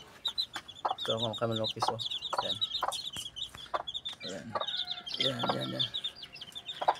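Young chicks chirp in high, rapid peeps and a few chickens cluck nearby, all running under someone speaking close to the microphone.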